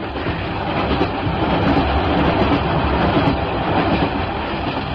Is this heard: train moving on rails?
yes